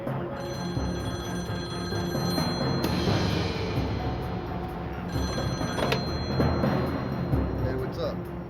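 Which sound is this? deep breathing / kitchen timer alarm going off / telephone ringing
telephone ringing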